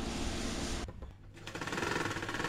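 A sewing machine stitches a chudithar up close, a steady fast mechanical whir that pauses briefly, then resumes at full speed.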